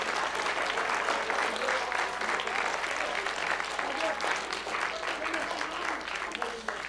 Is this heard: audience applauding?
yes